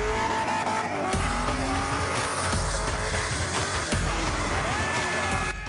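A car doing donuts in an industrial area, with continuous loud tire squeal and skidding over a revving engine, close and sustained throughout.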